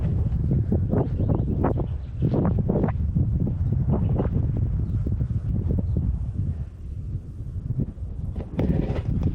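Strong wind buffets and roars across the microphone in continuous gusts at a lookout near Kununurra, Australia, with no voices, just rumbling blustery air throughout.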